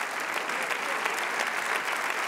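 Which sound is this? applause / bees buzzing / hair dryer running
applause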